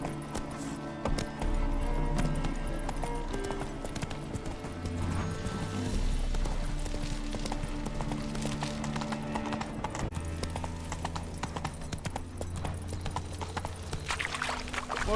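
Horse hooves clip-clop steadily in the video game The Witcher 3, a continuous trotting rhythm close up over game ambience and music, with a faint whinny, and no talk over the hoofbeats.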